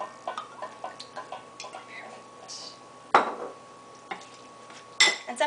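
A spoon stirs a tomato and arugula bruschetta topping in a bowl, giving a run of light, close clinks and taps against the side, with two sharper knocks standing out.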